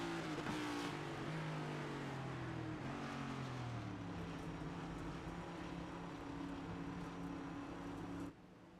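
Race cars in the iRacing game at Talladega roar past in a dense pack, a loud sustained engine drone with shifting pitches that holds steady for about eight seconds, then drops off sharply at the end.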